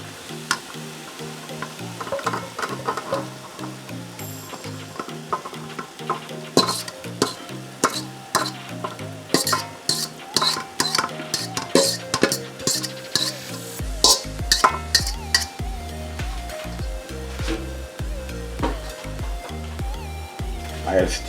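Brown-stew chicken drumsticks are stirred with their marinade in a pot for a Jamaican dish, giving repeated scraping and clattering strokes with a light sizzle underneath, steady and close throughout.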